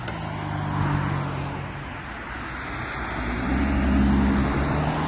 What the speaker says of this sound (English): get away from all this traffic